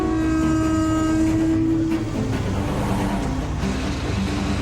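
A Crossrail test train runs along freshly laid track at Canary Wharf station, a steady loud rumble and rolling roar with a sustained tonal whine early on, continuous throughout without talk.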